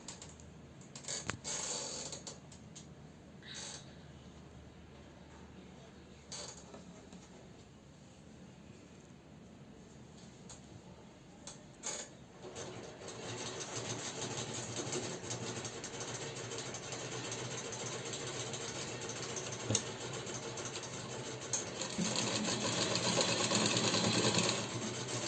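Sewing machine stitching a sozni suit, running with a steady mechanical whir that builds louder and busier in the second half, with intermittent clicks and knocks, no voices.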